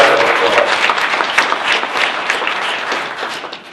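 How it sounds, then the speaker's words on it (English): Loud, continuous audience applause at a community gathering, a thick crowd of clapping hands that holds steady from start to finish. "round of applause."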